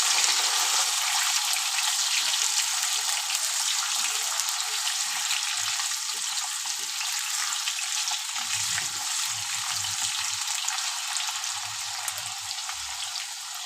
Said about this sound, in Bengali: আলুগুলো একটু ভালো করে ভেজে নিই।